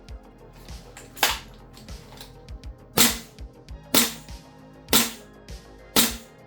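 A VFC M733/Mk18 gas blowback airsoft rifle fired in single shots, five loud sharp cracks at a steady pace about a second apart, each with a short mechanical clack, close by with quiet handling noise between.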